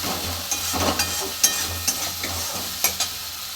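Spice paste frying in oil in a pan while being stirred, for a Bengali chuno fish curry, with a steady close sizzle broken by soft scraping strokes and small clicks of the spoon.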